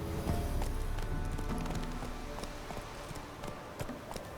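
Roach the horse galloping in The Witcher 3, a steady clip-clop of hooves that runs through the whole stretch at moderate loudness, with no voice over it.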